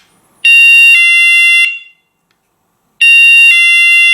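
A small, cheap Kerui alarm siren blares in loud, piercing, steady electronic tones, with one long burst, a brief silence and then a second burst starting.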